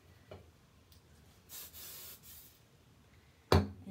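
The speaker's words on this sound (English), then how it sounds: "I'm going to hairspray it" Hairspray hisses from an aerosol can onto a section of hair being styled into a show choir bump and high ponytail, a soft short spray followed by a longer burst, with a sharp clack near the end.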